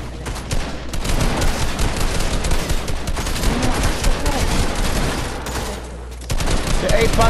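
A turret in a video game fires rapid, continuous bursts of gunfire, loud and close, layered with game sounds and a voice talking over the shooting, with a brief lull near the end.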